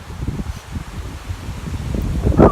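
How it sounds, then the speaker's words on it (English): Wind blowing outdoors, a steady rumbling buffet against the microphone with gusts building toward the end, close and fairly loud, with no speech. "the wind's really picking up"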